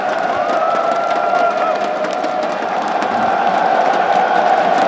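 A large esports crowd at a Counter-Strike major in Antwerp cheers and roars continuously, a dense wash of voices with scattered whoops, steady and loud throughout.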